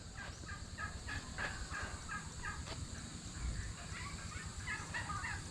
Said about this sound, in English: And there's those turkeys over there